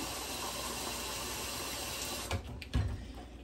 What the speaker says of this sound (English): I'm just getting hot tap water.